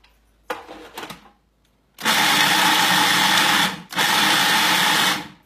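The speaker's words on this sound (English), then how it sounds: "what do you call this thing? Food processor." A food processor chops chunks of parmesan cheese in a couple of brief pulses, then runs loud and steady for two long bursts with a harsh motor roar.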